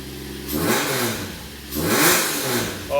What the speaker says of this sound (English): Free rev it to 11.